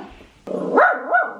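A dog lets out a loud, close bark that rises into a drawn-out, wavering growl-like yowl, over about a second.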